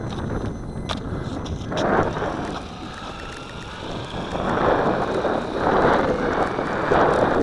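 A WLToys P949 tractor-style RC monster truck drives across the flat middle of a lake, its motor a rough, surging rumble that swells and fades, mixed with buffeting wind noise.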